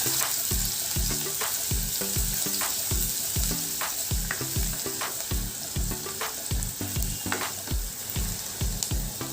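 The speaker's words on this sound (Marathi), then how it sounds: "व इथे थोडासा मी कांदा घेतलेला आहे तो टाकूया मग हे थोडंसं आपण परतून घेऊया" Chopped onion sizzles and fries in an oiled pan for a soup, with steady close crackling and a rhythmic series of spatula strokes stirring through it, loud and without any talk.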